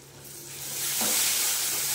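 Chopped tomato hits a hot frying pan while cooking a Bengali eggplant dish, and a sizzle swells up about halfway through and holds steady to the end, with no talking.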